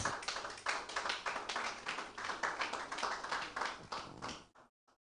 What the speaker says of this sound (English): So with a clap, let's welcome our rep.